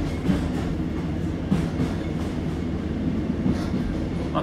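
A train runs along the railway near Okehampton, its steady rumble filling the carriage with a constant wash of noise and a few soft rhythmic clicks from the wheels on the track.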